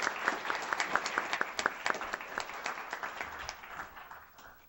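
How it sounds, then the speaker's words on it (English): A small audience at a Pima County Board of Supervisors meeting claps in a short round of applause, distinct individual claps in a loose rhythm that taper off over a few seconds. "We should give her a round of applause."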